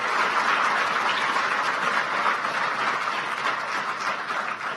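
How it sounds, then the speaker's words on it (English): A hall audience at the CMU Africa campus inauguration in Kigali gives a sustained round of applause for Rwanda's President Paul Kagame, a dense, even wash of many hands clapping for nearly five seconds, no voices on top. "please help me give a round of applause once again for His Excellency Paul Kagame, President of the Republic of Rwanda"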